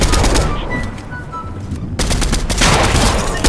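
Rapid gunfire from a Fortnite firefight rattles in dense bursts, easing briefly mid-stretch before a loud, sustained volley resumes, with game effect tones sounding between shots.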